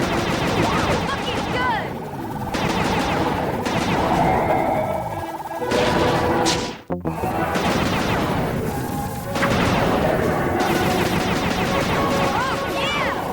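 A gun fires from a chopper in the video game Sly 2: Band of Thieves, a steady run of loud rapid shots and crashes with a brief pause midway and a short spoken line.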